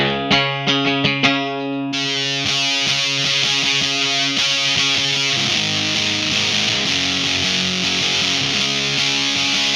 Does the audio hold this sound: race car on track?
no